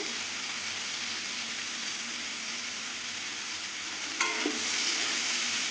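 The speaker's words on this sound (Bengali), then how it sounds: "হলুদ দিয়ে কিছুক্ষণ ভাজিয়ে নেব এই ভেজে নেব কাঁচা হলুদের গন্ধটা যাতে না বেরোয়" Hog plums fry with turmeric in a pan, making an even, close sizzle throughout, with a single metallic clank of a stirring spoon near the end. No one speaks.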